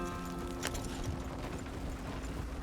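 Horse hooves clip-clopping in Red Dead Redemption 2: faint, soft hoof steps in a loose rhythm under a low background rumble, with one brighter knock early on.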